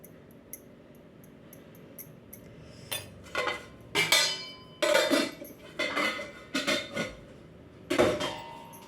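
A spoon or whisk clinks and scrapes in a bowl as chana dal and rice dhokla batter with salt and turmeric is beaten, giving close, rhythmic clattering bursts after a few faint taps at the start.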